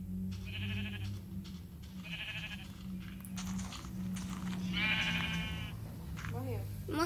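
Sheep in the Minecraft video game let out several distinct bleats in bursts, with people talking over them and a steady background hum.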